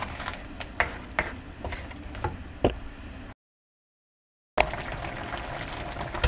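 Crab curry simmering in a pan with milk added, a steady low bubbling broken by sharp clicks and taps, then a brief silent gap before the same close cooking noise resumes.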